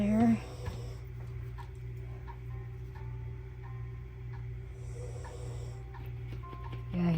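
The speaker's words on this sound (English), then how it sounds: "he's snoring pretty loud" A man snoring loudly in a room during an at-home paper crafting session: a low, steady rumbling drone that swells into louder snorts at the very start and end, with faint tapping and handling noises of craft work on top.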